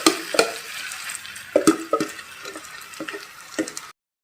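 A spoon stirs mashed tapioca into sautéed onions and curry leaves in a pan, with intermittent scraping strokes and soft sizzling, then a sudden cutoff near the end.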